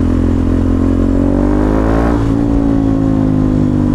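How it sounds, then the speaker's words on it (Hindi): A KTM Duke 390 gen 3 single-cylinder engine fitted with a DNA performance air filter revs loud and close, a steady throbbing drone that rises in pitch and then settles, with no talk. "जो ब्रीथिंग है ना बाइक की वो फील हो रही है, और क्रैकर्स भी ज़्यादा बज रहे हैं।"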